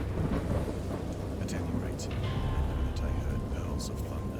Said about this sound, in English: peals of thunder, and other tones which nature utters only in her wildest moods